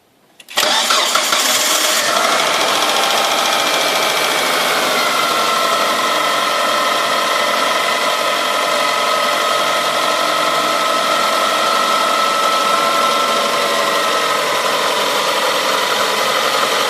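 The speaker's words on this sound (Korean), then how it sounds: "최초 시동 걸 때 특유의 하이톤 사운드가 나는 신기한 엔진인데" A Mitsubishi Sirius 4G63 engine in a Lancer Evolution cranks and fires up with a high-pitched start, then settles into a steady, loud, continuous idle with a faint rattle, with no talking.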